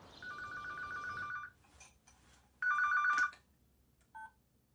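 A telephone rings in an office in two distinct electronic trilling bursts separated by a pause, followed by a faint short chirp, with no voices over it.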